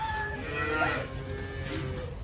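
Cows moo in a group, a long drawn-out bellow followed by another lowing call, fairly close over a constant background murmur of the herd.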